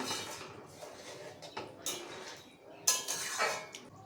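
Fried chhana koftas are stirred into a curry in a pot, giving a string of metallic clinks and scrapes from a spoon against the vessel, with a sharper knock near the end.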